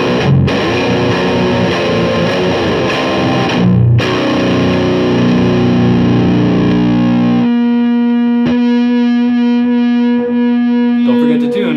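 Electric guitar played through an Airis Effects Brutal Drive distortion pedal, thick saturated chords and riffs, then a sustained distorted note ringing out alone, loud and close with no talking.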